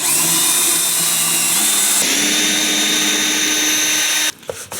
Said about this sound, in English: We drill a couple of pilot holes and we secure the cabinet with screws.